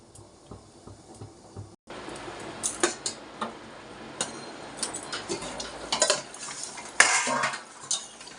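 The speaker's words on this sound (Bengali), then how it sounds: "এখন আমি একটা থালা দিয়ে ঢাকা দিয়ে দেব" A metal plate set over a cooking pot of rohu fish curry with potato and pointed gourd, giving a series of light clinks and taps against the rim, close and fairly quiet.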